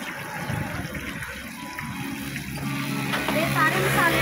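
Garlic water splashes and trickles as it is poured over spice-coated fish, a close, steady wet splatter that runs the whole time and grows a little louder toward the end.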